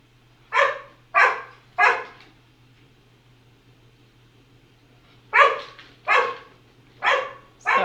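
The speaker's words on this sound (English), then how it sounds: "Sorry about my dog." A dog barks nearby in a quiet indoor room, three sharp barks, a pause, then four more, with a low steady hum underneath and no talking.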